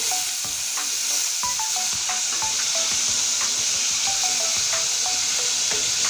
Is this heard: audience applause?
no